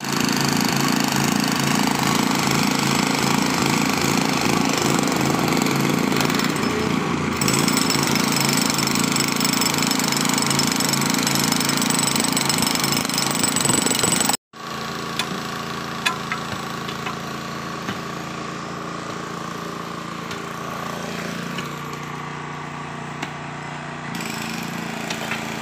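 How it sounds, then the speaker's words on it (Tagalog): A chipping hammer breaks up solid concrete beneath debris on a hot worksite, a loud continuous rattling hammer that cuts out briefly midway and then resumes, with no talk. "dalawang chipping pa lang gagamitin yung isa paanda rin na para chippingin na naman banda dun"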